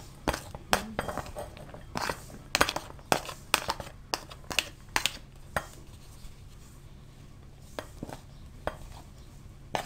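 Chopped vegetables, including tomato, tip into a bowl and get mixed for a sandwich filling, a string of sharp clatters and scraping knocks at an irregular rhythm, close and fairly quiet.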